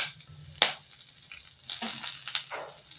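A piece of cinnamon, two cloves, three dried red chillies and curry leaves frying in two spoons of oil give a bright, crackling sizzle, with a sharp pop early and steady spitting close by.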